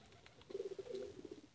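A racing pigeon gives a short run of low, throaty coos, close and fairly quiet, lasting about a second with faint background noise around it.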